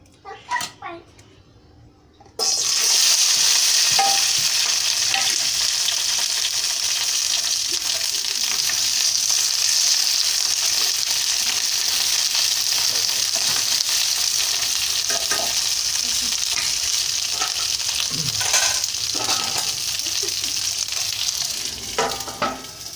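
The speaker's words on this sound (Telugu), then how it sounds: "ముందుగా టమాటా పచ్చడికి పచ్చిమిరపకాయలు వేయించుకుంటున్నాను" Green chillies fry in oil in a pan with a loud, steady sizzle that starts abruptly after a short quiet stretch and holds for the rest of the clip, with a few faint clinks and a stir.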